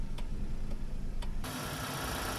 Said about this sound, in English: I'll pop up the hood and show you guys the idle of the engine.